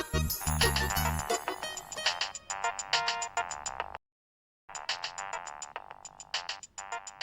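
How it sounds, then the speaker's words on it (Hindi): An incoming-call phone ringtone plays as a loud, repeating melodic chime in short bursts, breaking off briefly mid-clip before resuming its steady rhythmic pattern, with no talking. "भाईजान का फोन।"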